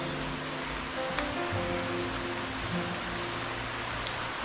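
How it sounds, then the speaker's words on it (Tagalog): Steady hiss of rain falling at a lechon business during pig butchering, a dense, even wash of noise with a faint low hum underneath and occasional light taps. "Yan, ulan na ho."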